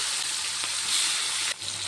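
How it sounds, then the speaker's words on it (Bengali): Salted prawns fry in hot oil in a wok, making a loud, dense, unbroken sizzle. The crackle briefly shifts as the pieces are stirred. "তেলটি গরম হয়ে গেছে, মাছগুলোকে ভেজে নেব। আগে থেকে চিংড়ি মাছ নুন মাখিয়ে রেখেছি,"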